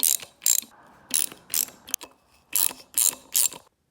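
A hand ratchet backs out timing cover bolts on a small-block Chevy 350 engine during a rebuild. Close, crisp bursts of rapid clicking are separated by short pauses, and the sound ends in quiet.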